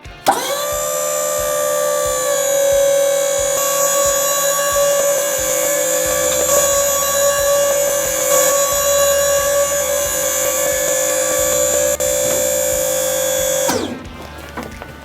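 Electric hydraulic pump on an FHS tilt-deck trailer, powering a 20,000 pound hoist with a 6x21-inch cylinder to raise the deck, a loud steady whining hum running about fourteen seconds before cutting off abruptly, no talking.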